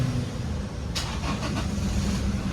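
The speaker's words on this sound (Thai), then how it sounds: "ตัวนี้นะ เดี๋ยวต้องสตาร์ทเครื่องให้ดู" A 2022 Toyota Revo Double Cab 2.4 High Prerunner automatic pickup is push-started: a sudden cranking burst about a second in, then the engine catches and settles into a steady running hum, fairly close.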